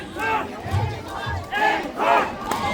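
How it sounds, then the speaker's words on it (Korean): A crowd shouts and cheers in loud, surging waves before a festival stage at the Taebaek Hwangji night market festival, with voices swelling and easing several times. "박수!"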